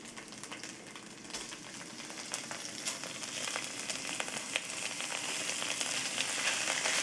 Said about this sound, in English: When you hear the sizzle, that's when you know the oil is hot enough